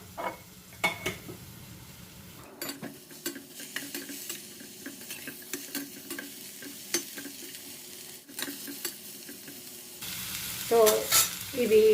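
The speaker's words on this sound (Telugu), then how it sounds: "జస్ట్ అవి వేగడానికి సరిపోయేంత ఆయిల్ వేసి ఈ ముక్కల్ని ఇందులో వేసి ఫ్రై చేసేద్దాము" Snake gourd pieces frying in oil in a kadai, a steady close sizzle with repeated scrapes and clinks of a spoon stirring against the pan, growing louder near the end.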